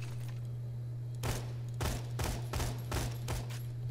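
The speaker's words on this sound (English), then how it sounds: "Oh, that's like a burst fire thing." Burst-fire gun in the Borderlands 2 video game, firing several short, sharp bursts in a steady rhythm over a constant low hum, with no talk.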